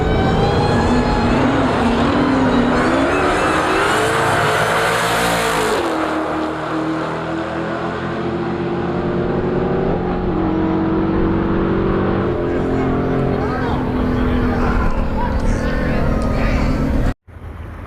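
A Dodge Hellcat makes a drag race run, its engine roaring loud and close as it accelerates hard through the gears, shifting and pulling steadily before cutting off abruptly, with talking over it.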